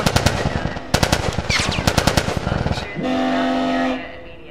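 Bursts of rapid automatic gunfire ring out in The Last of Us gameplay, loud and close, followed by a sustained mechanical drone with a steady tonal hum.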